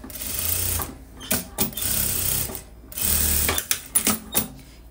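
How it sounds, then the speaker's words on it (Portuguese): A straight-stitch sewing machine closing the hem of a knit sleeve, running in several rapid motor bursts separated by brief pauses and small clicks as the fabric is adjusted, close and clear without talk. "Vou pegar aqui, ó, a barra da minha manga e vou fechar aqui na reta, ó."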